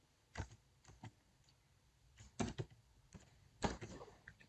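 Typing on a computer keyboard, heard as faint, sparse clusters of close key clicks with short pauses between them in a quiet room.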